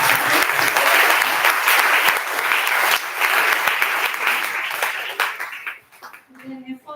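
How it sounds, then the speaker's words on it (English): A live audience claps enthusiastically in a dense, loud burst of applause that holds steady for several seconds, then thins and fades out as a voice begins speaking at the very end. "So a very big round of applause to all"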